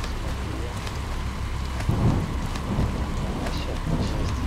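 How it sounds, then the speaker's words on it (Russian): Steady heavy rain pours down in the video game Dying Light, a dense hiss with low rumbling underneath, continuous and fairly loud throughout without any voices. "То дождь еще пошел"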